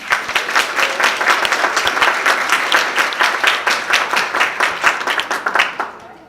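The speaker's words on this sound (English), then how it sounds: "Let's give him a round of applause." An audience at a dance show applauds loudly, with dense sustained clapping from a crowd that keeps going for about six seconds before fading at the end.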